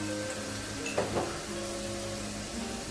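Minced meat fries and sizzles in a pan with a steady, moderate crackle, broken once near the middle by a brief stir or scrape, while faint tonal hum runs underneath.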